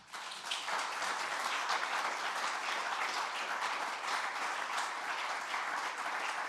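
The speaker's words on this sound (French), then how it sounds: "je crois qu'on peut vous applaudir" Sustained audience applause at a Paris debate club event honoring a speaker, a dense, steady wash of clapping from many hands that holds evenly throughout with no voices.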